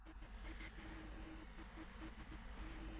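A Minecraft minecart rolls along rails, a faint steady rumble with a soft rhythmic clatter and a low hum underneath, quiet and continuous.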